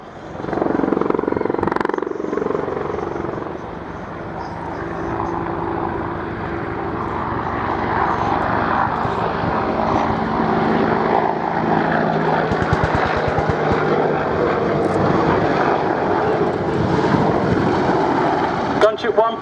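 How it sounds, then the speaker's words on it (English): A military gunship makes a strafing run and then a 270-degree wingover at the Yeovilton Air Day display, its engine and rotor roar loud and sustained, swelling and shifting as it passes, with a commentator talking over it. "Gunship 1 from the right just destroyed the remaining enemy with a strafing run and now flies a 270-degree wing over to reposition."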